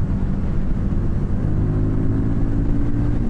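A liquid-cooled Harley-Davidson Street Rod motorcycle engine runs loud and steady, a continuous low rumble with a slight rise as it pulls in a higher gear, no voices over it.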